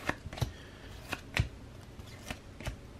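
Baseball trading cards from a 2018 retail pack, Team Best among them, handled at close range: a handful of sharp papery snaps and flicks at irregular intervals over a quiet background, with no talking.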